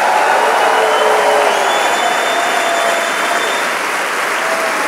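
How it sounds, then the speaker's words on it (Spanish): Church congregation giving loud, sustained applause for the Lord, a dense continuous roar of many hands clapping at close range with a faint tonal whine running through it and no speech. "Si es aplauso para el Señor,"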